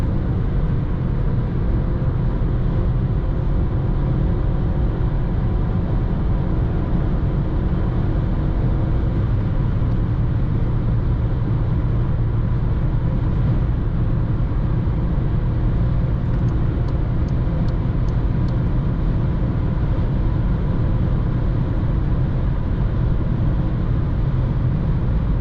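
Skoda Fabia 1.0 MPI 60 HP held at full throttle on a highway autobahn, a loud, steady engine drone mixed with road and wind roar from inside the car, unbroken throughout.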